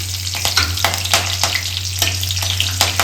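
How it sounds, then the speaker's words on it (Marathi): Mustard seeds, cumin and curry leaves sizzle in hot oil, a loud close continuous frying hiss with repeated sharp crackling spurts and a steady low hum underneath; no voices. "त्यानंतर आपण टाकणार आहे जिरे आणि मोहरी टाकल्यानंतर कढीपत्ता टाकणार आहे."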